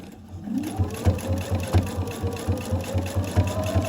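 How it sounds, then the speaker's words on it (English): A sewing machine runs a rolled hem foot along fabric, a steady rhythmic stitching hum with regular pulses, close and fairly loud, alone without talk. "Just start sewing. Don't pull, just hold it and guide it."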